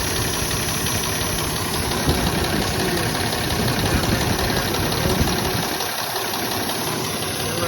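A Jeep engine idles with its oil pressure sending unit removed, a steady, loud, close mechanical drone with an even rhythmic knock that holds throughout.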